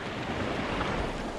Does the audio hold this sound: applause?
no